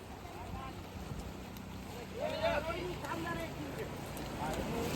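A boat carries a group of boys across the sea near Ganpatipule on the Konkan coast, with wind rushing across the microphone and water washing against the hull while the boys talk.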